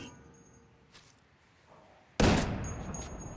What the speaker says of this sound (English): let's try shooting this gun here